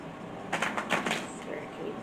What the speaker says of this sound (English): So I'm going to shuffle a couple more times.